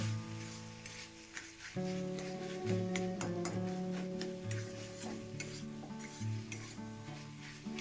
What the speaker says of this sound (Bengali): এবার একটু সময় নিয়ে ভালো করে নিম বেগুনটা ঘুটে নেব